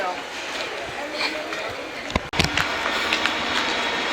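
Steady rumble and hiss of a train to London about to depart a station, with people talking nearby, a brief dropout, then sharp clanks and rolling noise.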